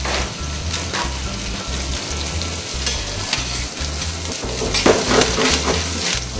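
Seasoned rocket leaves are stirred in a hot pan beside frying fish, with a steady sizzle and scraping strokes of a utensil in a regular rhythm, close up, with no talking.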